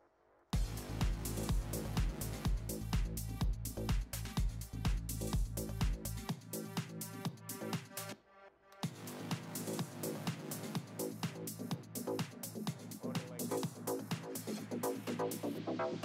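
A rhythmic electronic synth pattern, made in Ableton, plays through a ping pong delay with repeating echoes bouncing in quick succession, a dense pulsing sequence that briefly drops out before resuming.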